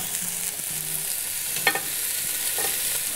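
Beef sears in a cast iron Dutch oven with a continuous bright hiss, broken by a single short metallic clink partway through.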